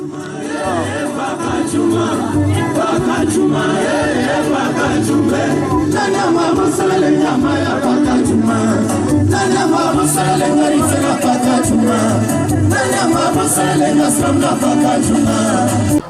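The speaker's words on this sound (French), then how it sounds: "On les applaudit encore très fort." A large crowd at an outdoor catch wrestling show at a festival keeps up loud, dense, continuous applause and cheering for the full stretch, with no pauses.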